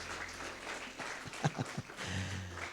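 Applause from a church congregation, fairly quiet and diffuse, with a few louder individual claps standing out near the middle, over a low steady hum.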